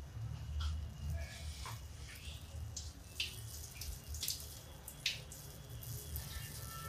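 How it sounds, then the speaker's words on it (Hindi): Water boiling in a cooking pot for dal, a quiet, continuous low bubbling with soft scattered pops and splashes, heard faintly and close with no talk. "ये देखिए ये जो पानी खोल रहा है,"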